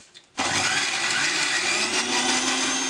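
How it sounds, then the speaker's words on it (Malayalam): An electric mixer grinder starts abruptly and whirs loudly and steadily, grinding tomato chutney in a home kitchen, close up, with no talk over it. "ഒന്നും കൂടെ ഒന്ന് അരച്ചെടുക്കാം"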